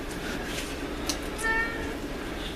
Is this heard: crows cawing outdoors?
no